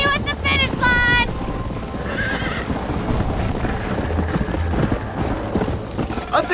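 A horse in the Red Dead Redemption video game gives a sharp neigh near the start, followed by steady galloping clip-clop hoofbeats, with voices and other sound running alongside.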